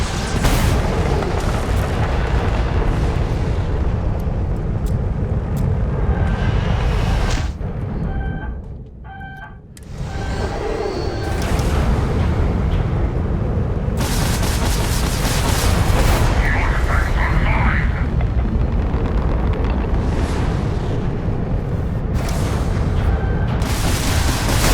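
Dense, continuous rapid gunfire and booming blasts from the video game Starfield fill the clip, briefly dropping out near the middle before resuming loudly.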